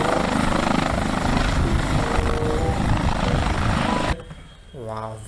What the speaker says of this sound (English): Military helicopter, look is beautiful.